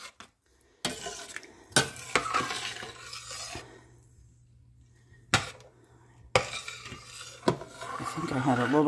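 A utensil scrapes and rubs across the bottom of a pot of kabsa rice coming to a boil, in repeated close, rough strokes with brief pauses and occasional knocks against the pot.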